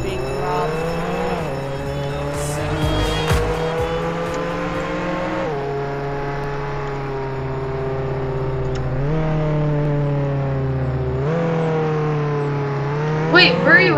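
A pickup truck drives in Roblox Jailbreak, its engine droning loudly and steadily while pitch rises through the gears and drops at each shift, with talk in the background.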